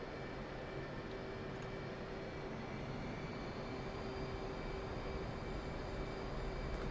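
Steady whine and rumble of an F/A-18C Hornet's jet engines while taxiing toward the runway in the DCS World flight simulator, a constant drone with no talk.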